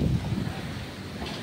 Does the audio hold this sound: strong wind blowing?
yes